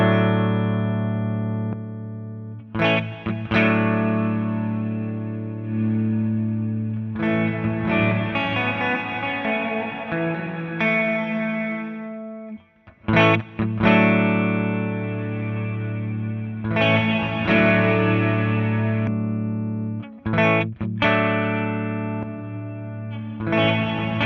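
Electric guitar through an AMT F1 preamp and a reverb effect pedal: chords and notes ring out with a washy reverb tail, sustained tones blurring together between strums, played alone with no voices.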